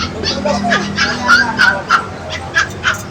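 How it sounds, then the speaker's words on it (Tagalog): Puppies, including Pomeranians, at a dog shop in a market give a quick series of small high yips and whimpers, close and fairly loud, over faint background bustle. "papakita ko sa inyo yung mga bagong papi namin"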